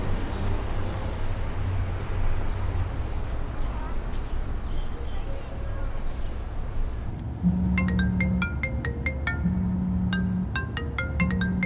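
Mobile phone ringing inside a moving car, a repeating melodic ringtone in short regular bursts over steady road and engine rumble, with no talking.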